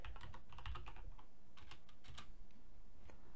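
Rapid, irregular clicking of computer keyboard keys being typed on to rename an item in Modo 3D design software, close and clear with no talking.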